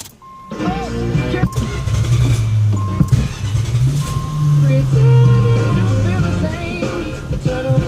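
A carbureted engine in a 1987 Chrysler Fifth Avenue cranks and catches within the first second, then settles into a steady, close idle with some revving that swells and eases, and a voice is heard over it.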